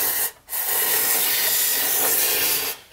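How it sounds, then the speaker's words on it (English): An aerosol rust-protection spray can hisses inside a car body in one long continuous burst after a brief short spray and pause, then cuts off. "And let's just start spraying in here."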